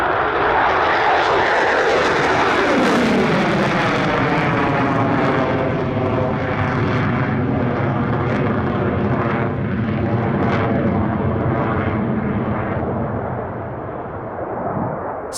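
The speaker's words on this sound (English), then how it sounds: "let's get straight to it with the F-22A Raptor" An F-22A Raptor fighter jet flies a display at the Australian International Airshow, its loud engine roar sweeping past with a strong pitch-shifting whine that slowly fades and thins toward the end.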